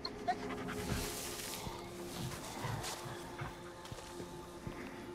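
Dog panting and whimpering in the video game Arizona Sunshine, a soft steady breathing with faint whines, heard fairly close under a low game background.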